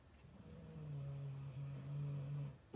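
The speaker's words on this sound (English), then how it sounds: "Goodness, he is just snoring." A person or animal snores in a low, steady drone lasting a couple of seconds, faint and alone with no talking over it.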